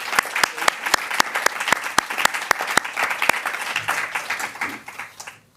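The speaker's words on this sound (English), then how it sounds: "amazing round of applause for them again" Audience applause for a group of young presenters at a global citizenship education event, with sharp individual claps standing out over a dense wash that thins out and fades toward the end.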